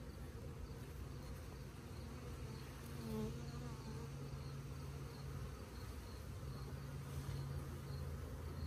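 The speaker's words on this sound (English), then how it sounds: "The bees are not happy about me." Many agitated honeybees buzz around close by during a honey box harvest, a steady droning hum with individual insects whirring louder as they pass near.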